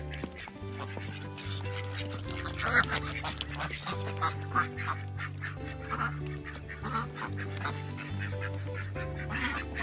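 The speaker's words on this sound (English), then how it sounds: "let's put these ducks in" A flock of ducks quacks continuously, overlapping honks and quacks nearby, loud and restless, with low tonal hum underneath, as they are put in for the night.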